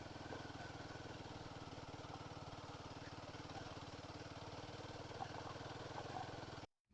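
A motorcycle engine runs at a steady idle, its even rapid pulsing thrum continuous and close, then it cuts off abruptly at the end.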